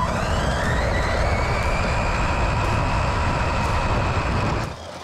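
A WLtoys street basher RC car accelerating and spinning out: a loud, continuous electric motor roar with a rising whine, close to the mic, easing off abruptly near the end.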